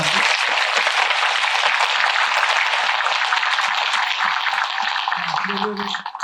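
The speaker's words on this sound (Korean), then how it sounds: "우리 박수 한번 칩시다." Sustained audience applause fills a Buddhist dharma assembly at Beomeosa temple, dense broadband clapping throughout, easing slightly near the end as a voice begins.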